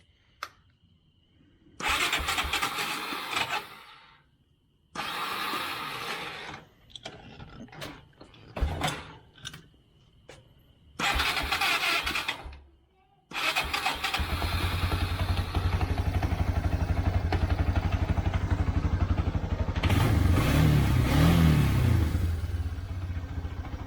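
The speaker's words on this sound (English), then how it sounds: "you can see from the wet tires and the grass and mud and crap stuck to this four-wheeler that it's running." A Yamaha Bear Tracker 250 four-wheeler with a newly replaced carburetor cranks in several loud bursts separated by pauses, then catches and runs steadily and loudly, idling somewhat roughly for about ten seconds.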